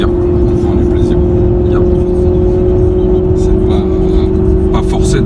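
A Maserati GranTurismo S cruises at around 110–120 km/h, its steady engine drone and road roar filling the cabin at a constant loud level throughout.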